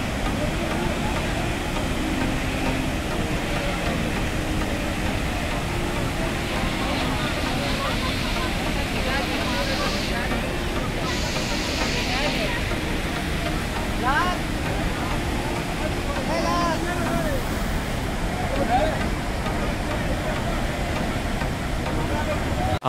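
Water rushes through two open gates of Maithon Dam in Jharkhand, a constant heavy roar that stays steady throughout, with a voice talking over it.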